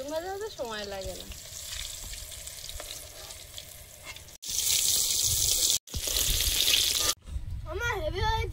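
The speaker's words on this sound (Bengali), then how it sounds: "বেগুন ভাজা হতে সময় লাগে না।" Brinjal slices frying in oil in a home kitchen, a continuous sizzle broken by several abrupt cuts, with louder, brighter bursts of frying toward the end and faint background voices at times.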